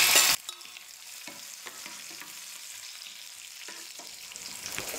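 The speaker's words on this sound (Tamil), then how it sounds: "திராட்சையும் நல்லா பொரிஞ்சு வந்துருச்சு." Cashews and raisins fry in hot oil for chana dal laddu, giving a soft, steady sizzle with occasional stirring scrapes after a louder opening burst.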